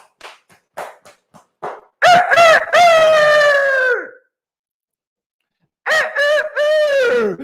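A rooster crows loudly and close by, two long drawn-out cock-a-doodle-doo calls, preceded by a few short sharp clucks, with a silent gap between the crows.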